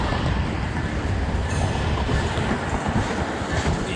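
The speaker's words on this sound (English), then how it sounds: "Alright, here comes the Amtrak." An Amtrak Silver Meteor passenger train passes close by, a loud continuous rumble of wheels on rail with roaring wind noise and faint clatter, filling the whole stretch without any talk.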